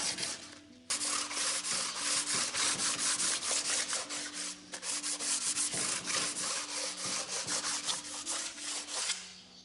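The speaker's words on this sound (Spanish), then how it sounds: "vamos a darle con lija fina poco a poco hasta que se vaya quedando totalmente limpio de residuos" Fine sandpaper works over the carbon-cleaned surface of a Renault F9Q B266 diesel engine part in rapid, continuous back-and-forth rubbing strokes, close and loud, with a brief pause near the start.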